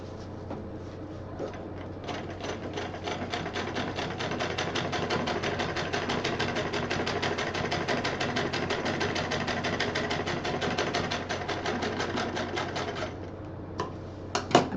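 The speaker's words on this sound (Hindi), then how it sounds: "इसको हम यहाँ पे सिल देंगे" A sewing machine stitching a cloth stool cover runs in one continuous rapid rattling burst, close and steady for most of the stretch, then stops with a few faint clicks.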